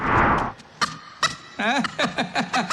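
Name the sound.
neighbour's chicken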